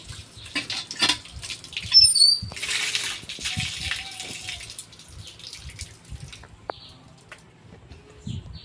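Someone washes hands and face with water in a village, with intermittent light splashes and trickles, soft and fairly close, among quiet background sounds.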